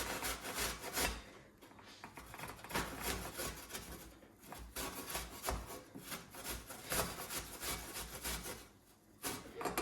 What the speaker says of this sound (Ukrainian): І починаємо терти.